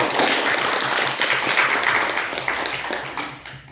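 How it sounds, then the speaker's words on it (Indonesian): Applause in a classroom during a guidance lesson, many pairs of hands clapping densely and steadily at close range, fading slightly toward the end, with no talk over it. "Tepuk tangan."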